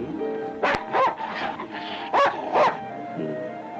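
A dog lets out several sharp yips and barks in quick bursts, close and loud, mixed with whimpering between them over a film soundtrack background.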